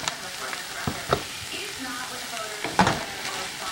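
Cheesesteak meat frying with onions, peppers and mushrooms, a steady sizzle broken by several sharp spatula scrapes and stirs against the pan, close and fairly loud.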